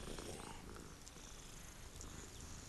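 Cats in the Hogwarts Legacy video game purr, a quiet steady rumbling drone that continues without a break for nearly three seconds.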